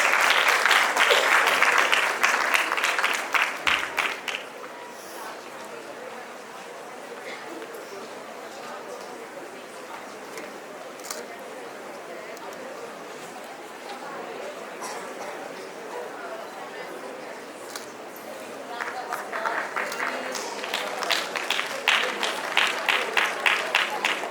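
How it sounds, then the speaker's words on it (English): An awards-ceremony audience applauds a school's second-place prize at a national debate event; loud clapping opens, gives way to a quieter stretch of murmur and talk, then rises again toward the end. "Please, ladies and gentlemen, give them a big round of applause"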